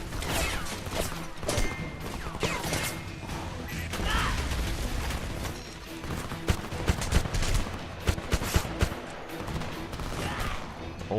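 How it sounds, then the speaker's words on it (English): Rapid gunfire from the Homefront shooter game, dense bursts and crackling shots layered with mechanical clatter and crashes, with sharper cracks near the end. "definitely just shot my own teammate a couple times right in the face"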